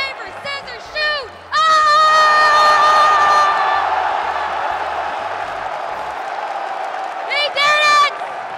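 A crowd at the EVO 2024 fighting-game tournament bursts into loud cheering and whooping after a few scattered shouts. The roar holds steady, then swells again with a final wave of whoops near the end.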